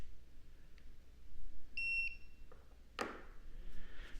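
A timer alarm sounds during a computing study session, giving two short, bright electronic beeps close by against quiet room noise, followed by a faint rustle.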